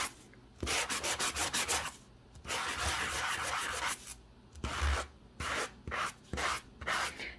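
Paper rubbed firmly against a rough surface to reveal white in papercraft, heard as a series of steady scratchy sanding strokes in rhythmic bursts, some quick and repeated, others longer, close and moderately loud with no talking.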